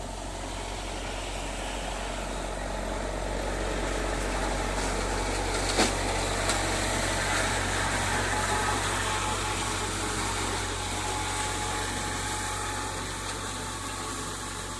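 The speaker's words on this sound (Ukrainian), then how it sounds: "Трактор косить гарно. Бере під саму землю." A tractor mowing grass for hay drones steadily nearby, a constant low rumble with a brief clatter midway, running without pause.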